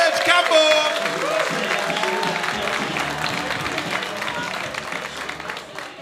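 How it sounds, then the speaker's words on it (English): An audience at a live comedy night applauds comedian Serge Campbell onto the stage, a broad burst of clapping and crowd noise that swells loud and then slowly thins, with voices mixed in. "You're going to start the round of applause for our final act in this section"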